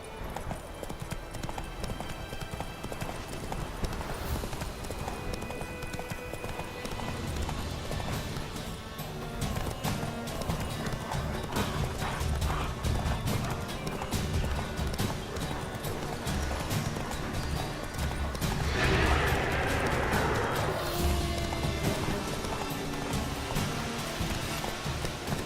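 Hooves of the horse Roach clip-clop steadily through The Witcher 3, a continuous rhythmic patter carried over game music and ambience, with a brief whinny-like swell near the end and faint rain in the background.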